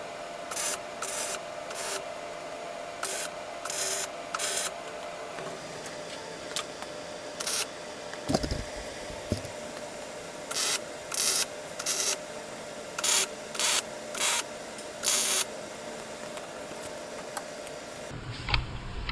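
Steel trailer frame corners being tack welded, with repeated short bursts of welding crackle, each lasting about a second, separated by pauses and a steady background hum, close and fairly loud.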